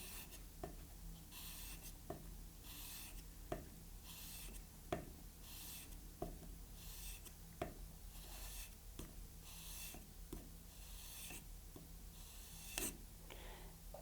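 A bonsai scissor blade scrapes back and forth across a whetstone in steady, rhythmic strokes, each a soft gritty rasp with a faint tick, close and quiet.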